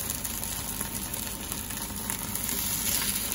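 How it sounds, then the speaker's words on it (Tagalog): Gyu karubi beef sizzles and fries in a hot pan with no oil added, a steady close crackling hiss running unbroken and fairly loud throughout, with no voices. "parang iihawi natin siya sa mainit na kawali"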